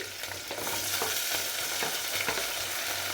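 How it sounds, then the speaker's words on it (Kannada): Onion, potato, carrot, beans and tomato are stir-fried together in a pan for upma, a steady close sizzle with repeated scraping stirs and no speech. "ಆಲೂಗೆಡ್ಡೆ, ಕ್ಯಾರೆಟು, ಬೀನ್ಸು ಮತ್ತು ಟೊಮೊಟೊ ಅಷ್ಟು ಒಂದೇ ಸತಿನೇ ಹಾಕ್ತಾಯಿದ್ದೀನಿ"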